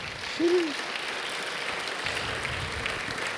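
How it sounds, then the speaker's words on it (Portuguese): A church youth gathering claps for a young participant, a steady moderate patter throughout with a brief voice at the start. "Palmas para ele, gente."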